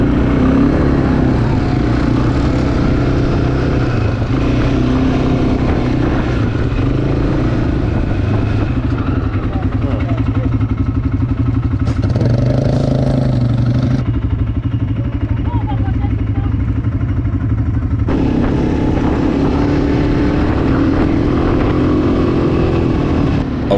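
A quad bike engine drones loud and steady while drifting on desert sand near Dubai, with the engine note shifting as it slides; a voice talks over it.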